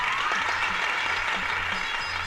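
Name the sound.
audience applause at a magic show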